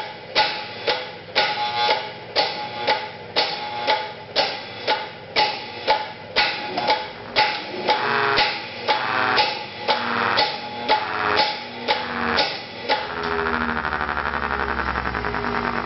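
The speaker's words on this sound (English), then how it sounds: "Both solenoids should pulse at the same time." Solenoids on a Federal Thunderbolt 1003 siren pulsing on and off together, a loud, rhythmic run of harsh buzzing bursts about twice a second before settling into a continuous drone.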